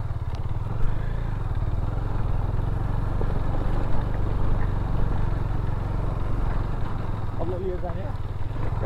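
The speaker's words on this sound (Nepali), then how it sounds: "हेरौँ कहाँसम्म जान्छ बाइक" A motorcycle climbing uphill on a ride to Heaven Dada near Kathmandu, its engine droning steadily and close for the whole stretch, with rough low rumble and faint rattling over the top.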